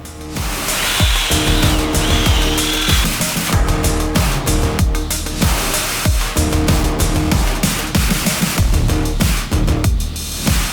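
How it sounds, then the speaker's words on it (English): A power tool reams out a fishing rod's reel seat in bursts of loud whirring and grinding, stopping and restarting several times across the stretch. "I'll have to ream this reel seat out ever so slightly so it can go down."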